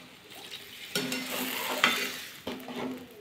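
Water poured into a pan of sizzling soybean and omelette curry, with sharp hisses at intervals as it hits the hot pan, a few stirring scrapes between bursts, close and moderate, no voices.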